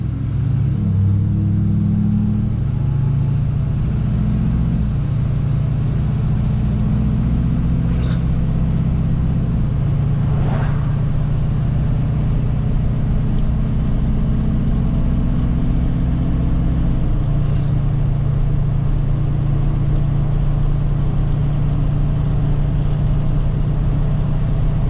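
A Duramax diesel pickup truck with a newly installed Airdog 4G II 165 fuel pump drives off, its engine a loud, steady low rumble heard from inside with a few gear-shift changes in pitch and no talking.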